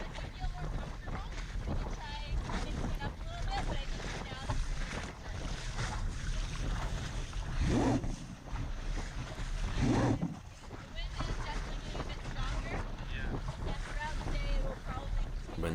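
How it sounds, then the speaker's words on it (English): Strong wind buffets a Laser dinghy under sail, a steady, loud rushing roar with low rumble that never lets up, blending with water noise around the hull. "Wind's picking up, she's saying."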